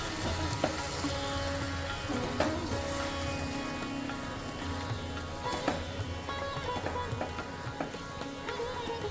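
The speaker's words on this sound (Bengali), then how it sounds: "লাউটাকে একটু নেড়ে চেড়ে নেবো যাতে ওপরটা নিচে যায়, নিচের দিকটা ওপরে আসে এইভাবে।" Bottle gourd cooking down in a pan for a prawn curry, a continuous moderate sizzle and bubbling with occasional soft stirring clinks, close by and steady, without any talk.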